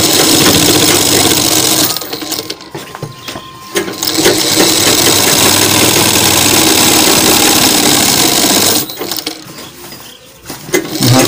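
Sewing machine stitching the waistband on a pair of men's trousers, running loud and steady with a continuous motor whir that drops off briefly twice, with no talking.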